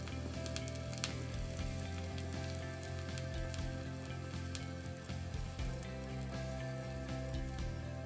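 Steady, dense sizzling and crackling from potassium permanganate reacting and bursting into purple flames, a continuous close hiss with scattered sharp pops and no talking.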